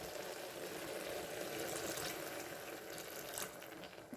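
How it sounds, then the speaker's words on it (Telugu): Water poured into a simmering pan of broad bean, potato and tomato curry, a steady continuous splashing rush lasting throughout, fairly close and alone with no talk. "ఇప్పుడు వాటర్ పోద్దాము."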